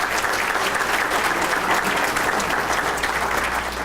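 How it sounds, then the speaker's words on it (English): Dinner guests at a chamber of commerce event applaud the evening's sponsors, a steady wash of clapping from a full room, continuous and fairly loud. "Please, a round of applause for those sponsors."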